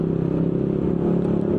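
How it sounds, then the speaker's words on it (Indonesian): Loud exhaust of a motorcycle riding just ahead on a winding downhill road near the Karangtengah railway crossing, heard as a steady, close, throaty engine drone with dense low harmonics that holds for the whole moment without talk. "Ini suara knalpot di depan kita lumayan guys."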